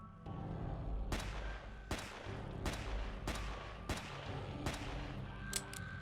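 Gunshots in the open-world zombie survival game Deadly Flare ring out about once a second: roughly five sharp cracks, each followed by a short decay, over a low game soundtrack.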